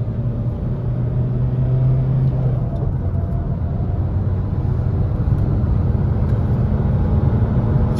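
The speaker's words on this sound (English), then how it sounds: "But here we go, up in third gear there." Ford Focus 2.0 TDCi Titanium diesel accelerating in third gear, a steady, loud engine drone and road rumble heard from inside the car throughout, with no pauses.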